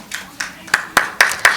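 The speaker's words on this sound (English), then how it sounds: "Please give her a huge round of applause even then." Clapping at an awards ceremony: six crisp, evenly spaced claps in quick succession, close and fairly loud, sounding like a few people rather than a full crowd.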